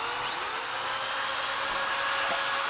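A Triad flow-through steel header machine runs with a loud, continuous high-pitched whine and bright metallic noise, steady throughout and close up.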